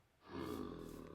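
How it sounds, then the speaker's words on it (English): A Minecraft zombie villager lets out a low, rough groaning growl that swells after a brief quiet start and holds for about a second, faint and somewhat distant. "That is the sound of a zombie villager."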